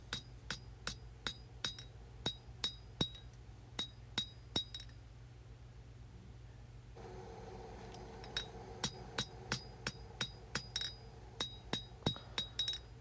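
A hammer strikes a high-carbon steel chef's knife blade during forging, giving sharp, ringing metallic blows in quick rhythmic bursts. The blows break for a short pause in the middle, then resume.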